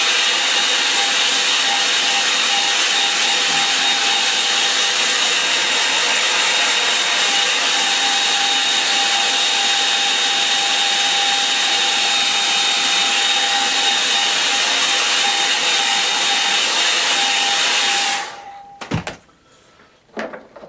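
A hair dryer blows at a watercolour painting, a loud steady close whir that runs unbroken for about eighteen seconds, then cuts off and leaves a few soft knocks and handling sounds.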